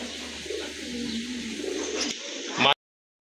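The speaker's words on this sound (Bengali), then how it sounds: "এখন কিন্তু আপনার একটা মাদি কবুতর দেখতে পাচ্ছেন" Low, soft cooing of pigeons runs steadily for a few seconds with a brief rustle near the end before it cuts off.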